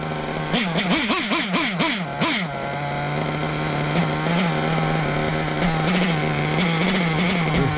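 A motorcycle engine blips through several quick revs, then settles into a steady, close idle while the idle mixture is being adjusted with the low-end carburetor screw.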